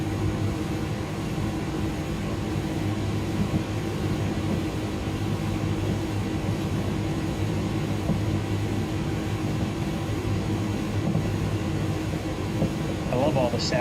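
Cockpit ambience of the Inibuilds Airbus A300 in Microsoft Flight Simulator 2020, a steady droning engine and air-system hum with low tonal whine and faint clicks toward the end, continuous and moderately loud.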